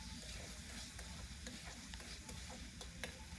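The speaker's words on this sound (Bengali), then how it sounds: "এখন আমি মাছগুলো দিয়ে দিলাম। মাছগুলো আমি নেড়ে চেড়ে খুব ভালোভাবে কষিয়ে নিব।" Horn fish is stirred and fried in an oily spice masala in a pan. A soft, steady sizzle runs throughout, broken by light scraping and clicking from a utensil, quiet and close with no voices.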